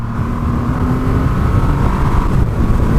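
A Triumph Rocket 3 R 2500cc motorcycle pulls hard to overtake, its engine a loud, close, continuous deep roar with rushing wind noise.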